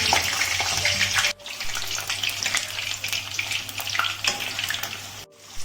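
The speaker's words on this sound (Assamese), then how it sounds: "সেই আলুখিনি ধুনীয়াকৈ এনেকৈ ফ্ৰাই কৰি ল'ম" Cut potatoes fry in hot oil in a wok, a loud, steady sizzle broken by brief stirring scrapes and one short gap.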